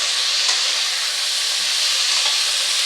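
Drumstick (moringa) pods fry in a hot pan with sesame, giving a steady, loud, broadband sizzle with faint scrapes of stirring and no voices.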